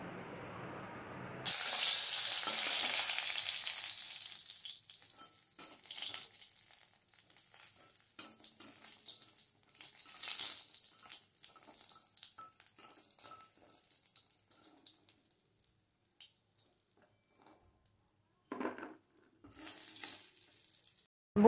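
Bori, small lentil dumplings, fry in hot oil in a kadai, starting with a loud, bright hiss that settles into a softer crackling sizzle with pauses and brief clatters of stirring.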